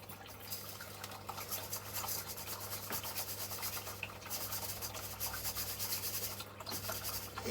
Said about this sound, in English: So I'm going to drop that one in there and then drop the dirt through that.